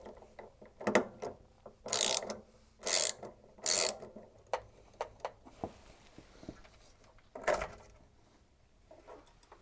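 A socket set ratchet working on the heating element of a Zanussi washer dryer, giving several bursts of sharp, rapid clicking close by, separated by quieter handling knocks and taps, with no talking.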